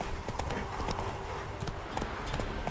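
Hooves of Geralt's horse Roach clip-clop steadily in The Witcher 3: Wild Hunt video game, an even walking rhythm of close, crisp hoofbeats over a soft ambient bed.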